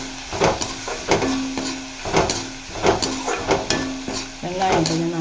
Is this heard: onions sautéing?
yes